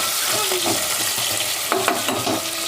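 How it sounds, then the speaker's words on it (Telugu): Green chillies and onions fry in a pan for a biryani, a steady broadband sizzle with a few sharp scraping stir strokes and a low hum underneath, close and fairly loud, no talking. "ఉల్లిగడ్డ అవి రెండు వేసేసుకోవాలా ఇవి వేగిన తర్వాతకి టమాటా వేసుకోవాలి"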